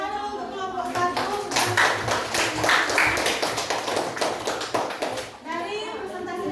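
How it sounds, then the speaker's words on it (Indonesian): A classroom audience in a dance arts class applauds a student group after its presentation, with several seconds of brisk, dense clapping and children's voices over it, and a woman's speech before and after. "tepuk tangan dulu untuk kelompok 1"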